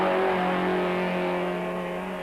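Race trucks on a circuit, led by a Ford Courier on its final lap, give a steady loud engine drone with sustained tonal hum, continuous and close, with no talk.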